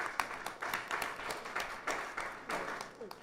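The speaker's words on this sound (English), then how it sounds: "we need to give them a round of applause also" Scattered applause from a small audience at a Krishna temple Sunday service, honoring those who ran a fundraiser. Uneven claps recur throughout at moderate volume, with faint voices murmuring underneath.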